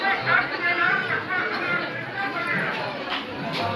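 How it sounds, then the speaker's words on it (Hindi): Dense crowd chatter at the Badayun Sharif dargah, a steady close hubbub of many overlapping voices with no single speaker standing out. "काफ़ी भीड़ है यहाँ पर भी।"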